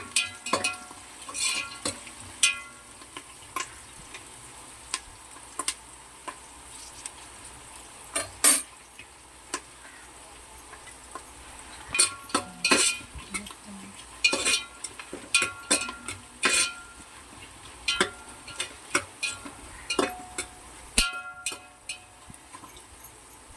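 Garlic fries in oil in a pot for a large two-kilogram mutton curry, with a steady low sizzle broken by frequent sharp clinks and scrapes of a spoon stirring against the metal, close up and with no talking.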